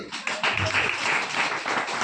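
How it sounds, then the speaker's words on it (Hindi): A church congregation at a Sunday service claps together, a dense, steady patter of many hands that fills the room continuously for a couple of seconds with no voices over it. "हालेलुया, ताली बजाइए ना जी।"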